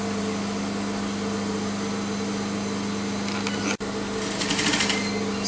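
Sewing machine running steadily as it stitches a seam on a shirt dress, a close continuous mechanical hum that halts briefly, then resumes with a brighter whirring finish.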